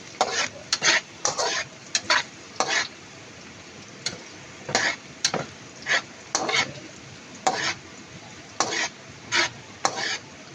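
Garlic browning in a hot pan for a Filipino coconut milk papaya stew, with a steady sizzle broken by about a dozen sharp scraping stirs at fairly regular intervals, close and alone.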